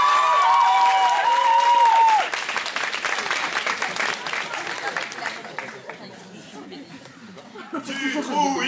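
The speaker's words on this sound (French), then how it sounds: "Applaudissez-le." Loud, dense applause fills the room at an association trophy debate event, then thins out into crowd chatter and scattered chuckles before a few claps return.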